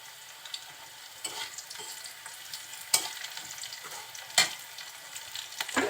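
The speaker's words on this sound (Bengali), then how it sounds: "এখন এগুলো একটু ভাজা ভাজা হচ্ছে।" Malabar spinach frying with whole cumin seeds in a pan, giving a soft, steady sizzle with occasional sharper crackles and stirring scrapes, moderately quiet and without talk.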